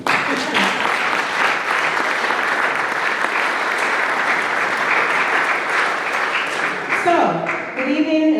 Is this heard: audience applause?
yes